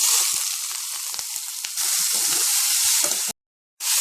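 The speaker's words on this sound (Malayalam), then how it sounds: "ഇനി നമുക്കതിലേക്ക് അരിഞ്ഞു വെച്ചിരിക്കുന്ന സവാള ചേർത്ത് വഴറ്റാം." Chopped onion frying in hot oil in a pan for butter chicken, a loud, dense, continuous sizzle with a few stirring scrapes, briefly cut to silence near the end, no voices.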